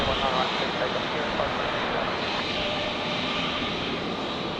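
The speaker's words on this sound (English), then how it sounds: "so Virgin 464 rolling here, off to Perth" Virgin airliner on its takeoff roll at a windy Brisbane Airport, a steady loud broadband jet roar sustained throughout with faint background chatter.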